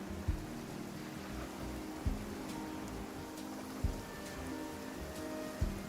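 Heavy rain pours steadily in Genshin Impact, a dense, even hiss of drops on surfaces with a few soft low thumps recurring about every two seconds.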